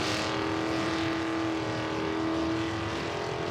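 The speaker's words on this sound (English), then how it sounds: "That sounds like somebody's working an engine awful hard for not a lot of movement" Race car engine held at high, strained revs during a Bash for Cash turn-back-the-clock class event, a steady sustained whine heard from some distance with faint crowd and ambient noise around it.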